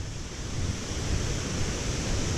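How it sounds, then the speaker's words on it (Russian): Twin Falls waterfall in Olallie State Park, a continuous loud broadband roar of falling water heard close by, steady with no talk. "Ах, какой водопад красивый!"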